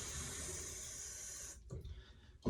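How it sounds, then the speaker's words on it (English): Water is poured or trickled into a mug of Proraso shaving soap for a safety-razor shave, a steady close hiss that stops partway through, followed by a few soft knocks and a louder clunk at the end. "I'll add a little more water"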